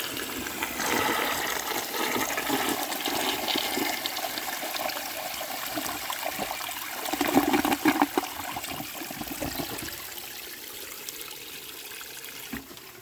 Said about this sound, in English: let's give it a flush.